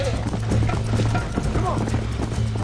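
Horse hooves clip-clop at a gallop in the video game Red Dead Redemption, a fast steady rhythm running under a low game hum with scattered background sounds throughout.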